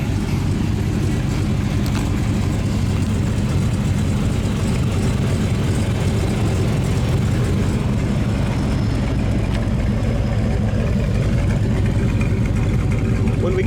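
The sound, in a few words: 1971 Monte Carlo engine with dual exhaust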